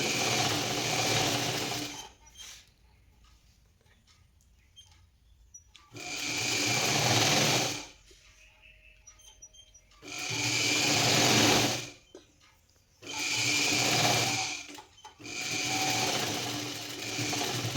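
A sewing machine stitches cloth in four loud, close bursts of whirring, each lasting roughly two seconds, with quiet pauses between them.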